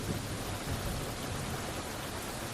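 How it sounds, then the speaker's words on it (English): Steady, soft rain noise in a PS5 bus simulator game, a continuous hiss of drops falling without pause, fairly faint and unbroken. "there's rain over there on that glass"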